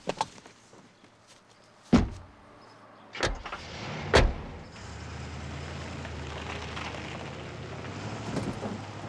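A car door thuds shut a couple of times before an engine starts and the car idles and pulls away, a low steady rumble continuing to the end.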